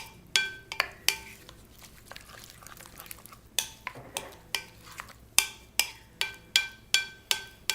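A utensil taps and scrapes against a bowl while shrimp cocktail ingredients with chopped cilantro are mixed, sounding as a run of sharp, close clinks in a fairly steady rhythm with brief pauses.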